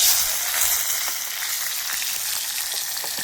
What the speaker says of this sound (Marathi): चला तर आपण फोडणी देऊ